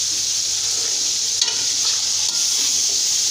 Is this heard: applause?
no